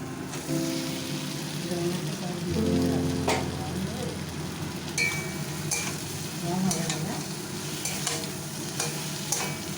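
Cauliflower and potato being sautéed with spices in a pan: a continuous sizzle broken by repeated scraping stirs, with a voice briefly in the background.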